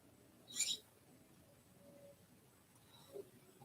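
A small pet bird indoors gives a brief, bright chirp near the start, then a faint call later, over quiet room tone with no talking.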